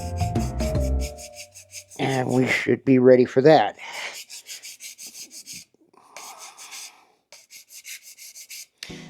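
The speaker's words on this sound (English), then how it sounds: "A little more filing down, and a little sanding smooth" Rasping strokes of a file and sanding on metal welds of a TYCO ACF centerflow hopper, repeated in steady bursts, with someone speaking briefly in between.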